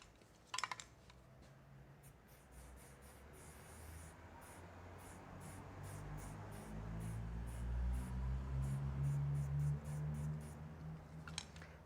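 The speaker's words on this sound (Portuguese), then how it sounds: "Esse é o controle do spray. Mais perto. Vou preencher, por exemplo." Spray paint hissing from an aerosol can held close to fill in a mural, a steady breathy hiss building in the middle and ending with a few sharp can clicks or rattles, fairly quiet.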